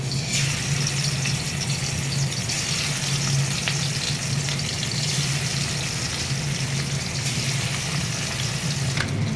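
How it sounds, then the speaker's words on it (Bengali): Oil sizzles loudly and steadily as fish fries, a continuous crackling hiss with no pauses and no voices. "মাছ ভাজা হয়ে গেছে"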